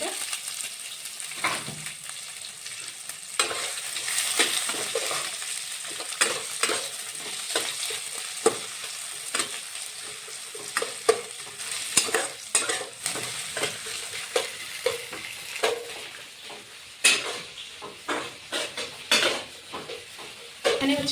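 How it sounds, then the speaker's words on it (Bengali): Chopped onions fried with cardamom in a pan for a meat dish, a steady sizzle broken by frequent scraping stirs and clinks of the spoon against the pot, close and fairly loud throughout, no talking. "আমার পেঁয়াজটা লাল লাল ভাজা হয়ে গেছে"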